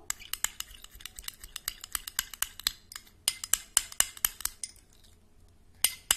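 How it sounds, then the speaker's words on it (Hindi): A small utensil stirs a vitamin E mixture for eyebrows and eyelashes in a little container, making rapid, bright clinks in quick bursts, with a short pause before a final flurry; no one speaks. "आपको अच्छी तरह से मिक्स कर लेना है इन सारी चीज़ों को"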